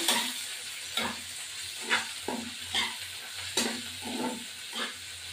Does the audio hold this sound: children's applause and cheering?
no